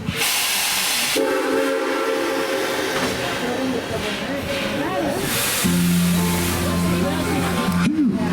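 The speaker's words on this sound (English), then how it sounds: "Casey Jones, let's get this train on back to town." Tweetsie Railroad tourist train rumbling along on opening day, its horn sounding in long tonal blasts near the start and again later, loud and close over steady track noise.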